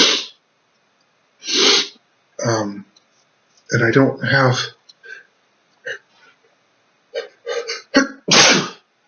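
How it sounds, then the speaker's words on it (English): A person sneezes several times in a row, with sharp bursts separated by short pauses and brief snatches of speech between them. "I'm just sort of overcome with sneezes at the moment."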